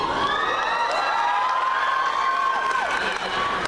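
Audience at a Comic-Con 2013 Sherlock panel cheers and whoops loudly and continuously, with high shrill shrieks rising over the dense crowd roar.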